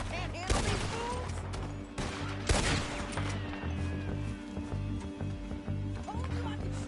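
Gunfire in the western video game Red Dead Redemption 2: a few sharp, loud shot bursts and some rattling, set against a steady musical and ambient game backdrop.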